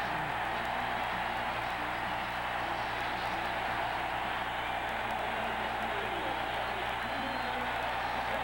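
A stadium crowd cheers during a 1993 NFL game between the Oilers and the Chargers after a Junior Seau interception. The roar is sustained, broad and distant, a steady wash with no breaks.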